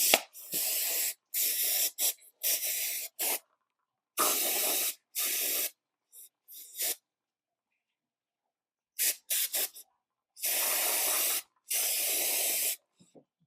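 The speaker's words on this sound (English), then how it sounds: "now we're just going to use brake cleaner to" Brake cleaner sprayed onto rusty brake calipers and brackets of an 8th gen Honda Civic Si, loud close hissing bursts of varying length separated by silent pauses.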